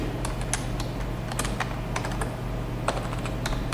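Typing on a computer keyboard while writing code, with irregular bursts of light key clicks and taps over a low steady hum, close and fairly quiet, no voices.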